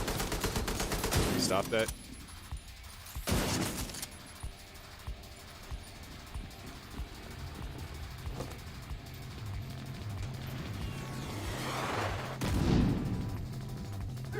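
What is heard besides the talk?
rocket launcher fire and explosions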